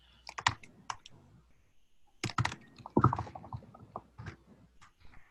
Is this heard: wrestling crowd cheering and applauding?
no